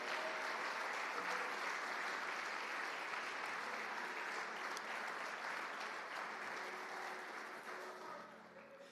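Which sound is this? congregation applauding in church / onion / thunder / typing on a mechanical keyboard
congregation applauding in church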